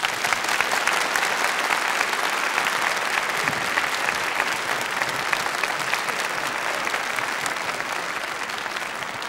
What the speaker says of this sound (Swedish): Och en enorm applåd förstås.